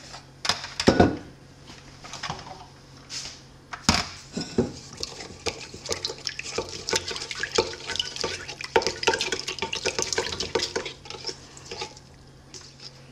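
Sourdough bagel dough ingredients with salt stirred together in a bowl, a busy run of wet clinking, scraping and sloshing strokes up close, with a couple of sharper knocks early on and no talking.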